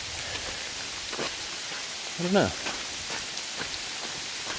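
Steady rain falls on a forest trail along the Appalachian Trail near the Delaware Water Gap, a broad even hiss with scattered drop taps, and a voice briefly speaks midway.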